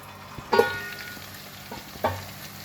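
Potatoes and okra cooking in a covered pan over medium heat, a low continuous sizzle broken by two distinct clanks of a lid or spoon.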